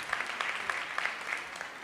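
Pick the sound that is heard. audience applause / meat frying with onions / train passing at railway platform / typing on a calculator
audience applause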